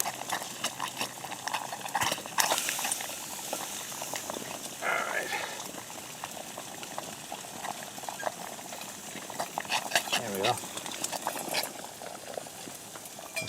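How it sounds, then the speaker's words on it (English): Water boils vigorously in a Kelly kettle over a small outdoor fire, a continuous bubbling and rolling hiss with occasional louder gurgles, while someone talks quietly over it. "I think I better take my water off the boil here."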